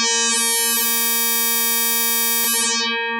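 A steady FM synthesizer tone from a Bastl Instruments Pizza complex oscillator with strong, bright harmonics holds, its upper overtones thinning out toward the end as the ratio-oscillator modulation fades.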